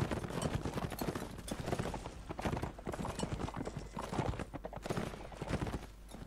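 Lancer cavalry hooves gallop in a video game battle, making a dense, rapid clatter that stays loud and continuous throughout, with no voices over it.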